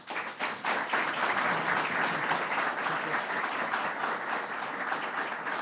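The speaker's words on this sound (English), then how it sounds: "I want to give everyone give a round of applause to our acting superintendent" Steady, dense applause from a crowd at a New York State Police superintendent nomination announcement, loud and continuous throughout with no pauses.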